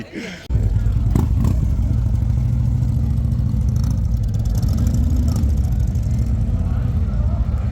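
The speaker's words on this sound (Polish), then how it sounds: "Z Centrum miasta, ulica Deptak, samochody, motory, rowery, wszystko tu jeździ, nie?" Steady, loud engine noise from cars and motorcycles passing close by on a busy city street in Chioggia at night, a continuous drone that fills the whole stretch.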